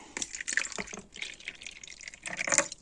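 Sour goat's milk is poured into a bowl for pancake batter, giving a short run of liquid splashes and trickles with a few drips, close by and without speech.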